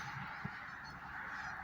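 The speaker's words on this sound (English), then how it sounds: "I hear geese." Geese honk faintly in the distance outdoors, a soft, steady honking barely above the background.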